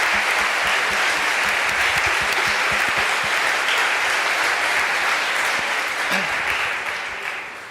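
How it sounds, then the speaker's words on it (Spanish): Sustained audience applause at an event honoring the organizers, a dense, loud wash of many hands clapping that holds steady for several seconds before starting to fade near the end. "que pido un aplauso, por favor"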